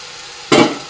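Water poured into frying biryani masala bursts into a sharp, loud sizzle that rises suddenly, then settles into a fading hiss, close and alone.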